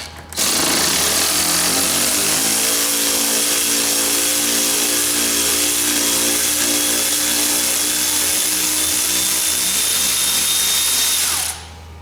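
A Milwaukee 3/8 drive power tool hammers away for about eleven seconds, loud, close and unbroken, removing the sway bar on a 2004 Polaris Sportsman four-wheeler. It starts and stops abruptly, with no talking.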